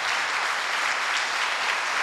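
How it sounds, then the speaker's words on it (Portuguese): Sustained applause from a crowd in a Catholic church, steady dense clapping throughout with no pauses. "meu irmão está aplaudindo"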